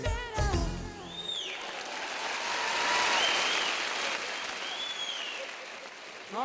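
Applause from a comedy show audience, a broad wash of clapping that swells to a peak midway and slowly fades, heard after a burst of loud voices at the start.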